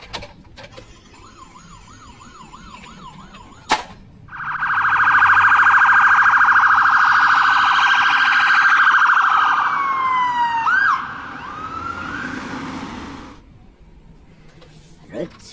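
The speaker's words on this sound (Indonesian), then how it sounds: "Ambulans." An ambulance siren wails loudly and steadily at close range, rising in, holding a sustained tone, then tapering off, preceded by a brief electronic warbling tone and a sharp knock.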